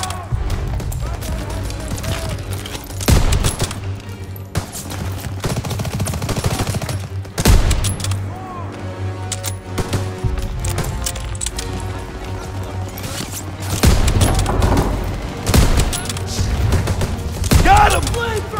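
Sustained machine gun fire from a second-floor MG nest in a World War-style shooter video game, loud rapid bursts with heavy booms and splintering wood impacts, continuing throughout with brief pauses.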